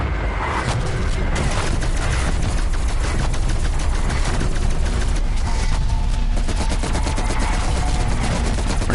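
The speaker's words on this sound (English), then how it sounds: "we're gonna run up, drop the artillery strike on him" Rapid, dense gunfire and heavy booming explosions from an artillery strike in Call of Duty: Black Ops Cold War on the Firebase Z map, loud and continuous throughout.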